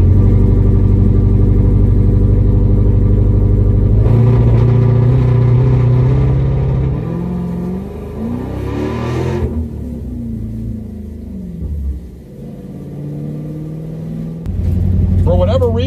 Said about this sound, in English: the car just completely bogged off the line